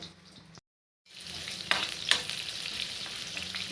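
Mustard seeds and chana dal tempering in two spoons of hot oil, giving a steady close crackling sizzle with a short silent gap early on and a few sharper pops as the frying carries on.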